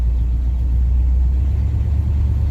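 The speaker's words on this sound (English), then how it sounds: "It's got loud exhaust on it." Deep, steady exhaust rumble from an idling 1970 Ford F250 truck with loud mufflers, low and continuous with no other sounds.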